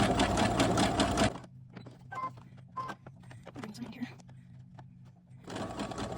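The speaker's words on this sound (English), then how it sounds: "I'm trying to let it just feed itself into the machine" A home sewing machine stitches fabric for a doll's T-shirt in two loud, fast whirring bursts at the start and end, with quieter handling sounds between them; someone talks throughout.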